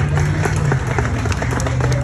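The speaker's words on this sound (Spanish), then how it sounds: "Más fuerte ese aplauso a la comunidad" A crowd at a Central American festival in Salt Lake City, Utah claps briefly in a dense burst, with a low hum and crowd noise under the applause.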